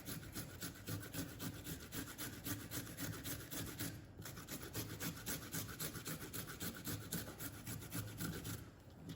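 Fibrous root being grated by hand on a grater for a beef and veggie stir fry, a steady rapid scraping rasp repeating in even strokes, close and fairly quiet, with a brief pause midway.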